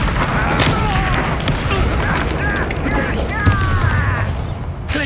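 In Hogwarts Legacy, Glacius and Bombarda spells burst with booming impacts and crackling, mechanical crashes amid a busy, loud combat soundscape, with voices speaking over the action.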